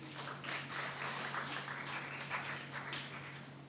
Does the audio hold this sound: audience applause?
yes